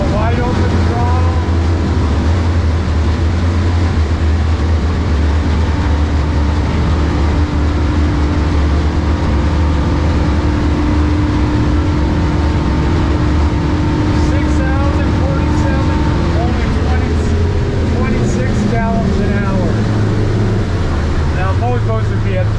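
A Stabicraft 2250 Ultra center-console boat with a single F300 outboard runs at wide open throttle, a loud steady engine drone and rushing water continuing throughout with talk over it.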